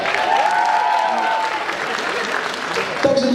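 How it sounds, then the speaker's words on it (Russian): Sustained applause from a student KVN event audience, dense and even, with a voice or tone sounding over the clapping near the start and again at the end. "Эту информацию можно сопроводить особо громкими аплодисментами."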